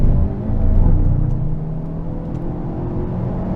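A 2022 Hyundai Elantra N on a race track pulls under throttle. Its engine is a deep, steady rumble heard from close by, swelling briefly before easing to a lower drone.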